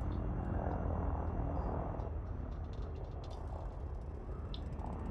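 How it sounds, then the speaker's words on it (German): Drones hover in Elite Dangerous Odyssey, giving off a continuous low mechanical hum with a faint whirring layer. The sound holds steady and moderately quiet throughout, with no voices over it. "Ja, ich höre die Drohnen schon."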